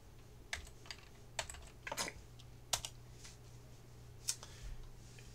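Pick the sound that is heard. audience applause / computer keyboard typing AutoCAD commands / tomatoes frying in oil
computer keyboard typing AutoCAD commands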